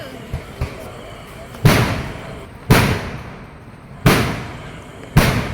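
Fireworks burst at a Kerala temple festival, four sharp explosive bangs spaced about a second apart with decaying rumbles, loud over a low crowd murmur and a few faint earlier pops.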